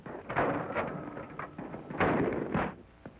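Shotgun fire at a skeet range, heard as a few dull, muffled booms spread over a few seconds with wind-like rumble between them, moderately loud and somewhat distant.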